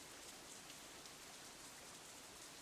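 Rain falls steadily outdoors in the Katawa Shoujo visual novel, a soft, even hiss of drops that continues alone for the whole stretch without any voices.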